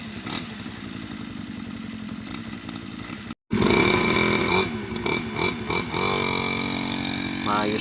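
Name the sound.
motorcycle engine warming up after repair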